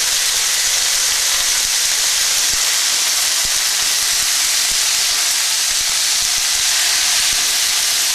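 Red, yellow and frozen peppers steam and sizzle in a hot pan, a loud, continuous broadband hiss that holds steady throughout with faint crackles and no talk.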